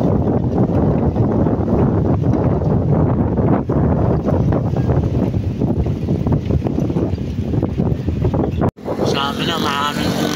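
Loud gusts of wind batter the microphone on a baywalk, producing a heavy rumbling roar that continues with a brief dropout near the end, with no one speaking.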